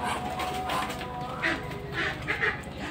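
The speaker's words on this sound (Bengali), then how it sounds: "সবগুলো হচ্ছে কুচে বসা চীনা হাঁস" Chinese (Muscovy) ducks kept in a home flock, calling with a run of short, rough quacks that repeat every half second or so, fairly close, over a steady background hum.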